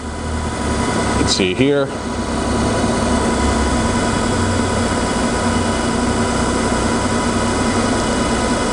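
Okamoto OGM-820UB universal cylindrical grinder with its variable-speed work head running, a steady loud mechanical hum and whine throughout, with a brief spoken remark near the start.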